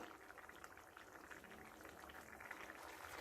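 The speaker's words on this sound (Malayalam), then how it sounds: "ഇത് നല്ലതുപോലെ ഇതിലൊന്ന് കിടന്ന് തിളക്കട്ടെ" Sardine curry soured with kudampuli simmering in a pot, a soft, steady bubbling that stays faint and even throughout.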